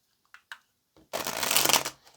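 A few light taps of tarot cards, then a rapid riffling shuffle of about a second, close and clear in a quiet room.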